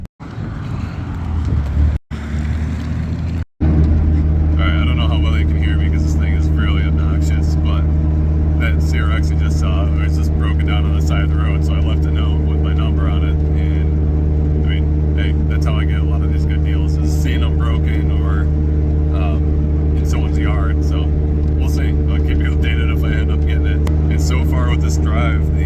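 Acura Integra on the road, loud droning engine rumble with steady low hum and wind noise that continues throughout, with a person talking over it.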